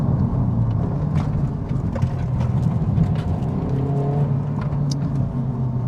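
A 2021 Honda Civic Type R Limited Edition (FK8) driven in R+ mode, steady engine drone and road roar heard from inside the cabin at a constant, fairly loud level.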